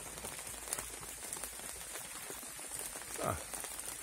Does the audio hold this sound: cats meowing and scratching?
no